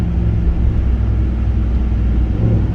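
Deep, loud engine roar from a Ram TRX pickup with an AWE exhaust under throttle, steady and rumbling throughout with no voices.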